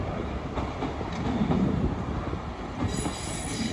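A Class 158 diesel unit rolls past at Toadmoor Tunnel near Ambergate, with rumbling wheels, rhythmic rail clatter and a brief wheel squeal, fairly close and steady for a few seconds, no voices.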